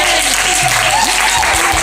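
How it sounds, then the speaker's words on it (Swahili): A church congregation bursts into loud, sustained applause during a sermon, a dense wash of clapping with a faint tonal voice or instrument gliding underneath. "Aliye na imani ampe Yesu makofi."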